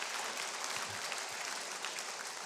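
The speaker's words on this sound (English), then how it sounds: "And you know why that line got applause?" Steady applause from a crowd at a political rally in Tennessee, a dense even wash of clapping at moderate level throughout with no talk over it.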